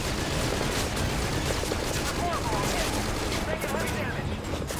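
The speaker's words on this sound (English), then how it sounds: "We're taking a lot of fire." Dense, continuous gunfire in Metal Gear Solid 5: Ground Zeroes, a rapid barrage of overlapping shots and blasts filling the whole stretch at steady loudness, with a voice faintly beneath it.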